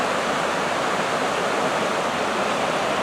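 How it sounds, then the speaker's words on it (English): Steady, full rush of a stream's running water, constant and close with no pauses or other sounds. "the sound of the water might ruin our audio"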